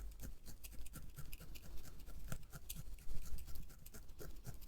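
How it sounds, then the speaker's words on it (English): A felting needle stabs repeatedly into acrylic fibres, giving quick close scratchy pokes in an uneven, rapid rhythm with no voices. "literally just stabbing into it with your needle"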